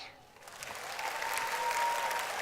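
A concert audience claps after a speech, the applause swelling from a quiet start into a steady, dense wash of many hands that carries on to the end.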